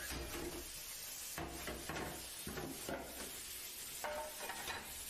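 Courgettes cooking in a pan for shrimp tagliatelle, giving a steady dense sizzle with scraping stirs and clatter throughout, close and continuous with no voices.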